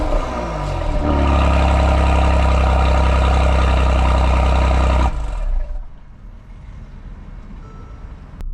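A 2018 Mercedes-Benz GLE AMG 43 4matic with a 3-liter bi-turbo V6 gives a loud, steady, deep engine roar for several seconds, then cuts off abruptly and fades into quieter road and cabin rumble.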